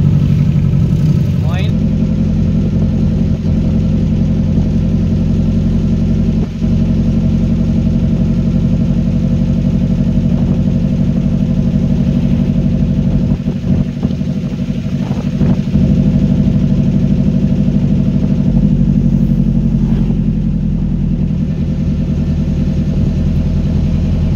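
A vehicle drives along the highway in Tanay, Rizal, its engine droning steadily and loudly from inside the cabin with a constant low rumble, and a few brief knocks and rattles.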